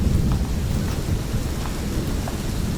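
Steady heavy rain with rumbling thunder during a mountain trek from Nathiagali to Beeran Gali in Pakistan, loud and continuous without speech.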